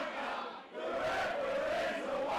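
A football crowd at an FA Cup match between Stocksbridge Park Steels and Ashington shouts in a sustained, distant roar of voices, rising and falling, with one brief dip before swelling again.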